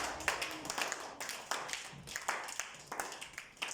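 A church congregation claps along in a steady rhythmic beat, faint and somewhat distant, with the claps coming in quick repeated bursts.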